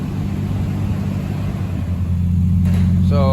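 A 515 hp turbocharged IS300 with BC cams, a Precision turbo and AEM Infinity management runs on a dyno, giving a loud, steady, deep rumble that hums on throughout before brief higher noises near the end.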